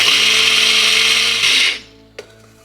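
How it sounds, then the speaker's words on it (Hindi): An electric grinder whirs loudly as it grinds coarse sugar, a steady high motor whine that winds down and cuts off, followed by a single sharp knock as the jar is handled. "अब ये चीनी को हल्का सा मैं ग्राइंड करूँगी।"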